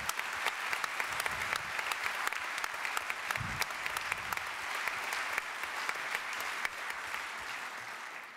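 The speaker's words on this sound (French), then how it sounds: "Je pense qu'ils méritent encore une fois nos applaudissements." A congress audience applauds, a dense, sustained clapping of many hands heard from within the hall, steady for the full stretch and tapering slightly at the end.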